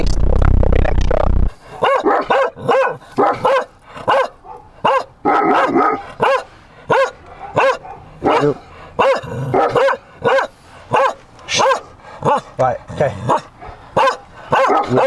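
Dogs bark repeatedly at a dog boarding kennel, sharp close yaps and woofs coming in rapid bursts throughout, with people talking briefly over the commotion.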